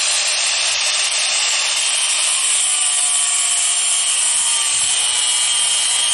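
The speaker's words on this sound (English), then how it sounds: "Just going to be taking a cutting wheel straight down to that and breaking that off." A cutting wheel grinds straight through old trailer metal, a loud continuous abrasive hiss and whine that holds steady for the whole stretch with no pauses.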